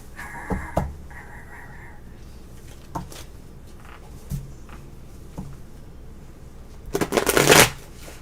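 Lenormand tarot cards being shuffled by hand, with a few soft riffles and taps early on and a loud, close, rapid riffle burst near the end, with no talking.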